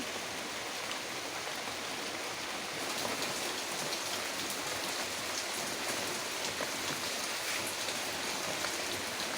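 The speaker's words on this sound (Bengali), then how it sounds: "যেহেতু বৃষ্টি হচ্ছে" Steady rain falls on a rural home, a dense, even wash of drops on surfaces that grows slightly heavier after a few seconds and continues throughout without any voices.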